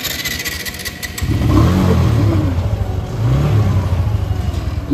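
A new TVS Apache RTR 160 motorcycle starts with a short crank, then its engine catches and idles and revs at close range, a low steady rumble with slight rises and falls.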